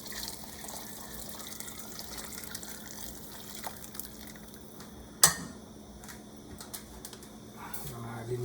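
Water poured from a tap into a pot of chicken wing soup, a steady faint running wash with a sharp clink partway through.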